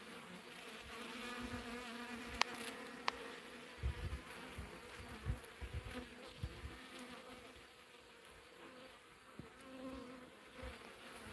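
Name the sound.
bees buzzing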